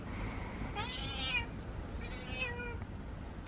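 A stray cat with no collar meows twice indoors, each call a drawn-out, rising-and-falling cry, close and fairly clear over a low background hum.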